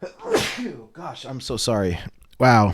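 A person sneezes sharply at the start, then speaks apologetically, followed by another loud exclamation.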